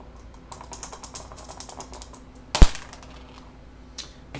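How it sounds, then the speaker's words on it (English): Dice are rolled for a tabletop wargame, a quick series of small rattling clicks followed by one sharp, loud clatter as they land, close and with no voices. "Now, the sound that you all love to hear, the dice."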